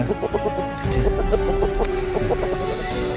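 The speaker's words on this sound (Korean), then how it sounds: "제가 제일 좋아하는 닭입니다." Shamo chickens cluck repeatedly close by, short pulsing calls overlapping one another, with a steady tonal note running underneath.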